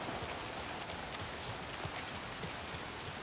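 Rain falling steadily outside a diner in Alan Wake 2, a dense even hiss of drops with small pattering taps, moderately close and alone.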